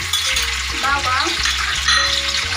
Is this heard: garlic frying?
yes